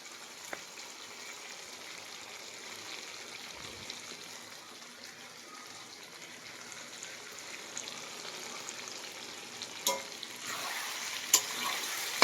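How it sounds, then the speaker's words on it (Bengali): Chicken cooks in a pan with a soft continuous sizzle, low and steady, with a few light clicks and knocks from stirring near the end. "চিকেন রান্না হচ্ছে"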